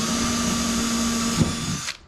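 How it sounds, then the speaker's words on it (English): A power drill whines steadily for a little over a second, then bites and winds down as the bit finishes drilling through a wooden cornhole board, close and fairly loud. "So I'll just drill through there."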